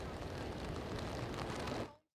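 Steady rain falls on an outdoor evening crowd at Boston City Hall, a dense even hiss that holds loud for about two seconds and then cuts off abruptly.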